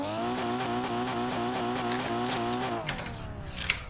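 Formula car drifting on snow at Okuibuki in a racing sim game, a steady engine drone with harmonic whine held for nearly three seconds, then cutting off abruptly to quieter tire and skid noise.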